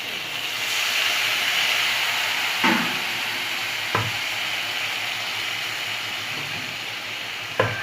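Soaked cumin, coriander and red chilli powder paste hits a hot pan with a loud, steady sizzle and hiss. A few sharp clinks of a spoon against the pan cut through, and no one talks.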